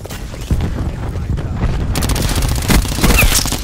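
Repeated cluster grenade blasts in the shooter game Call of Duty: Black Ops 4, a dense rolling barrage of booms and crackling detonations that builds in intensity, loud and continuous with a faint voice underneath.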